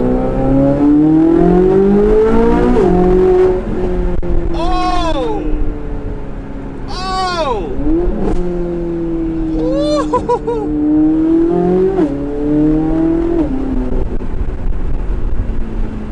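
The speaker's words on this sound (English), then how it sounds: "The pops, the upshifts are brutal." A Chevrolet C8 Corvette Z06 with equal-length headers revs hard under load, with sharp exhaust pops and crackles at each upshift, repeating several times as it accelerates.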